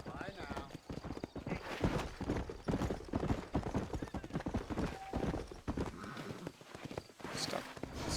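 Horse hooves clip-clop steadily in Red Dead Redemption as a rider sets off on the trail, a rhythmic close trot with a brief whinny, under a voice.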